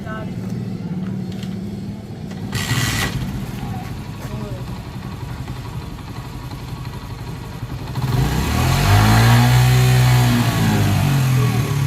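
A motorcycle engine idles at first, then revs up loudly near the end for several seconds. A child's and adults' voices talk over it in an outdoor desi household setting.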